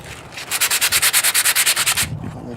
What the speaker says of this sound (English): Probably have to sand it too